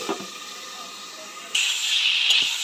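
Vegetables cooking in a covered pan in a home kitchen after a splash of water is added, a steady sizzling hiss that swells abruptly louder partway through and keeps going alone.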